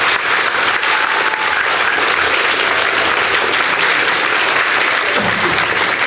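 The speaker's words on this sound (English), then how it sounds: "So please, give my lady a nice round of applause." An audience at a book presentation breaks into a sustained round of applause, a loud, dense clapping that carries on evenly without pause.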